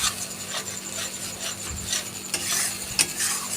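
Spice paste being stirred in a pan for Bengali potol posto with cashew, a steady scraping and rubbing of a spatula under a soft background sizzle, with a few sharper knocks.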